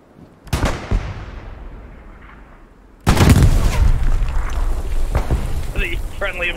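Gunfire in the World War II shooter Hell Let Loose at night near a trench on the Foy map: a sharp shot and fading rumble, then a loud burst of heavy firing that continues, with players talking over it.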